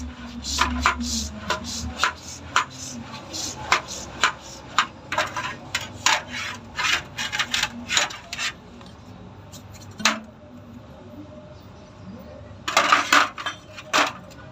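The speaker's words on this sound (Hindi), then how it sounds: "इसको आपने पेट्रोल के ज़रिए ऊपर और नीचे करना है ताकि इसका प्रेशर अंदर से इसके वाल की मुकम्मल सफाई हो जाए" A car shock absorber is worked up and down while submerged in petrol, giving a run of sharp clacks, knocks and sloshing scrapes at an uneven rhythm, with a brief cluster of louder rattles near the end.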